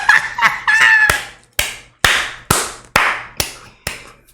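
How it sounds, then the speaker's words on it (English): A run of sharp, separate hand claps, about seven, spaced evenly and loud, following a brief burst of animated vocal sounds at the start. "Clap it up"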